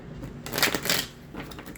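A deck of tarot cards riffles in a short, close shuffle, two quick bursts of crisp flapping and rustling that fade into softer handling noise, with no voices.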